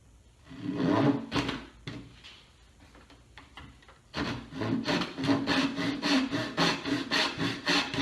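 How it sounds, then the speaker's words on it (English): A dovetail hand saw cuts wood along a marked line while a simple joinery bookshelf is being built. The sound is close and rhythmic: a few uneven strokes at first, then a steady run of back-and-forth rasping strokes. "take the dovetail saw, or any hand saw for that matter, and you want to cut down that line"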